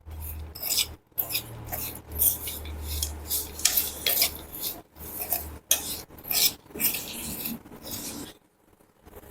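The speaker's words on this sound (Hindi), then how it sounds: "और इतना करने के बाद ये इसको पूरा इस तरह से मिला दें।" Raw turmeric pickle being stirred and mixed with spices in a bowl, a steady run of scraping, rubbing strokes with brief pauses, close and fairly loud, no talking.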